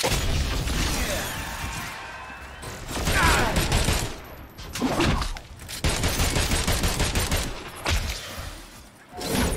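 Gunfire at a launcher's weak points in the Agents of Mayhem action game comes as loud, dense volleys of shots mixed with crashes and bursts, rising and falling in waves.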